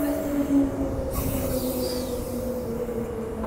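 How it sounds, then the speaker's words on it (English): A Midland train passes with a steady rumbling drone and sustained tonal wheel hum, fairly close and even throughout, with no voices. "There's the Midland train."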